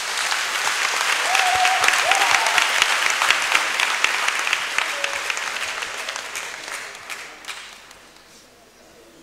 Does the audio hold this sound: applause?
yes